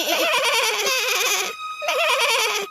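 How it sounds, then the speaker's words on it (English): Young goats bleat in a run of wavering, quavering cries, two long calls separated by a short pause, fairly close and clear, with no talk over them. "they heard the voices of the little goats"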